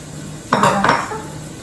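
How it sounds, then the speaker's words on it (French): A metal sheet set down over a pan of cooking onions, one brief metallic clatter with a short ringing tail over a steady background hiss. "Fait que je vais mettre ma tôle par-dessus."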